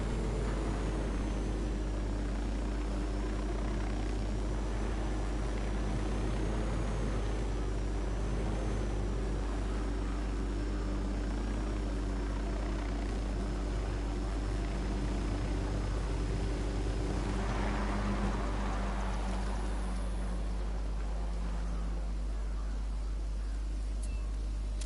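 A helicopter in Ghost Recon Wildlands drones steadily with a low rotor rumble and engine whine throughout, easing down toward a field landing in the game.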